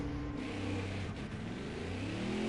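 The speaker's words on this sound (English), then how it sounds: "these V8s, and especially when they're going down through the gears" A V8 race car engine in a racing video game on the Charlotte Roval circuit, revving hard and dropping down through the gears, a loud continuous roar with rising and falling pitch sweeps, no voices.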